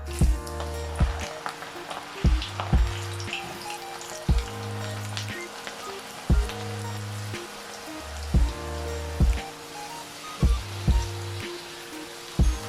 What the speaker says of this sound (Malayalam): അപ്പോൾ നമുക്ക് കുറച്ച് എണ്ണയിൽ ഇത് കുറേശ്ശായിട്ട് വറുത്ത് തരാം